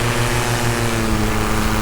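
A huge engine mounted on a paramotor runs in flight, a steady, loud, close droning hum with a constant pitch and no breaks.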